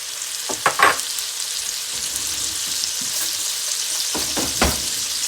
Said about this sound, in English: I'm gonna add a few cubes of the butter.